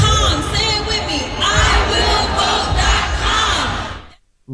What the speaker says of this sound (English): I love that she had the crowd riled up